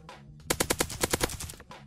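An auto pistol in Krunker.io fires a rapid burst of about nine sharp, evenly spaced shots, close and loud, with quieter game noise before and after.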